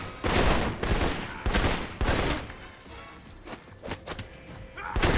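Gunfire in the action role-playing game Alpha Protocol, a series of loud sharp shots and bursts arriving in uneven clusters with short quieter gaps between, close and punchy.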